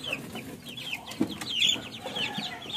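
Backyard chickens, Dekalb Brown hens among them, cluck in a brooder: repeated soft clucks and busy chirpy calls close by, with no talking.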